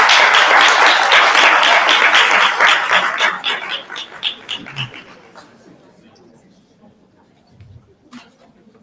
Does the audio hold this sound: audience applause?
yes